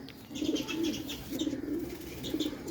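Pigeons of a pure old rooftop breeding stock coo in repeated low, throaty phrases, close and steady throughout, with faint higher chirps and rustling around them and no talking.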